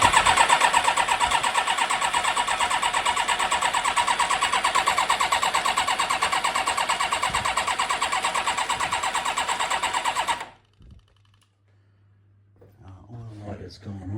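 A Yamaha YZF1000 Thunderace motorcycle engine fires up for its first start, running with a loud, fast, evenly pulsing idle for about ten seconds before cutting out abruptly, leaving near silence and a nearby voice.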